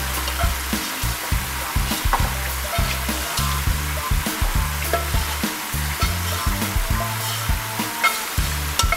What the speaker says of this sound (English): I'm gonna turn my flame back on for my shrimp. I'm gonna add the fried rice